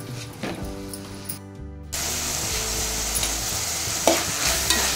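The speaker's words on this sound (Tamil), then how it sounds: "நல்லா வதங்கட்டும்" Onions and ingredients for a South Indian vada curry sautéing in a pan; after a brief tonal passage, a steady close sizzle takes over, with a couple of sharp utensil clinks.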